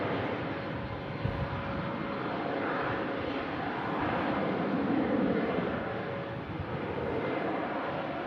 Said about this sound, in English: KLM starting her takeoff roll,